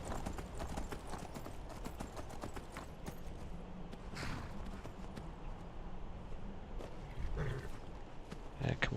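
Horse hooves clip-clop in a steady rhythm throughout in the video game Skyrim, a dense stream of hoofbeats over ambient game sound. A faint voice is briefly audible partway through.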